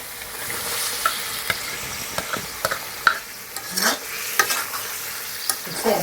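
Potatoes frying in a spiced masala, stirred with a utensil: a steady sizzle with repeated scrapes and clicks against the pan over about six seconds, close and moderately loud, with no talking.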